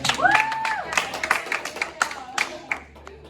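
A small group claps and cheers during a quiz game, with scattered sharp hand claps, a whoop or two, and voices talking and calling out over them, moderately loud and close.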